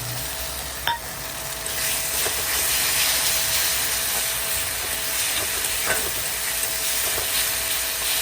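Spices and onion-tomato masala frying in a pan, giving a loud continuous sizzle and hiss up close with occasional stirring scrapes and a brief knock near the start.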